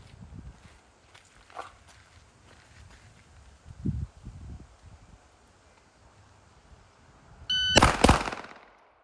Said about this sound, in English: I'm going to be ready to shoot as it enters the bottom of the circle instead of waiting for the middle of the circle